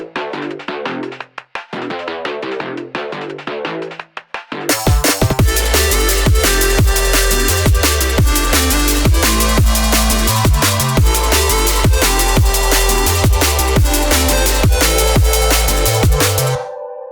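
Aggressive drum and bass synth bass line, opening with a sparser build-up before a loud, dense drop hits with heavy sustained low end and driving drums, playing alone without talk.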